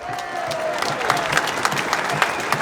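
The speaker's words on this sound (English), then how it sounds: "Big round of applause." Rally crowd against an emergency services levy bill applauds Victoria Police, a dense burst of many hands clapping with scattered sharper claps and a few cheers or voices mixed in.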